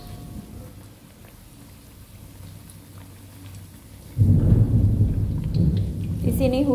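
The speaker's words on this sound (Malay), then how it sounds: "sini hujan terus petir, teman-teman. Hujan petir." Soft steady rain hisses, then a loud deep rumble of thunder rolls in and continues over the downpour.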